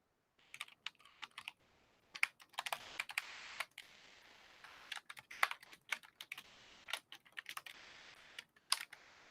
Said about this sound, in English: So let's just go with the reds here.